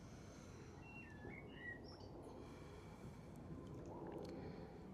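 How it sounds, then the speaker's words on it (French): Birds singing outdoors, faint scattered chirps and short warbling calls over a soft background hush. "Il y a aussi des oiseaux qui chantent"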